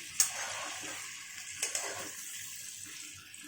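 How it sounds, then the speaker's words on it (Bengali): Capsicum and onion stir-fried in hot oil for chili chicken, a soft steady sizzle with a few sharp scraping stirs of the spatula near the start and middle, no voices. "আর এখানে ক্যাপসিকাম আর পেঁয়াজটা দিয়ে দিলাম, ভালো করে নাড়িয়ে চাড়িয়ে নিচ্ছি।"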